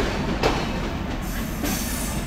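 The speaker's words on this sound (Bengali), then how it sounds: "ট্রেন চলে যাচ্ছে খুলনার দিকে" The Sundarban Express rolls past toward Khulna in a steady, dense roar of wheels and carriages, close by and unbroken for the whole stretch.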